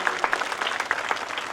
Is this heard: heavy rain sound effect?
no